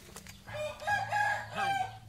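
A rooster crows and clucks close by in an outdoor garden setting near a fish pond, with two or three drawn-out calls following a few short, sharp clucks.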